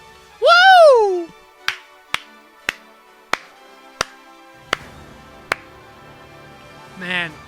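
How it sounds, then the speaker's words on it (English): One person claps slowly and alone at the close of Fire Emblem Engage: about eight sharp, evenly spaced claps after a brief cheering whoop, with a short vocal sound trailing at the end. "I feel so basic for applauding."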